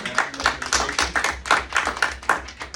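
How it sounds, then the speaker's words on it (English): A group claps hands together in a brisk, fairly rhythmic burst, close by, with no talking. "So give yourselves a hand clap."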